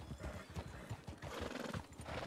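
A horse's hooves clop in a steady rhythm of low, quiet thuds, with a whinny mixed into the soft background.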